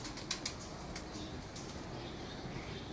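Pigeons on a rooftop flap their wings as they land, with a few quick, sharp bursts of wingbeats near the start and then softer flutters over a steady outdoor background.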